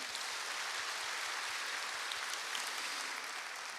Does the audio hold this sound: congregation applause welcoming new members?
yes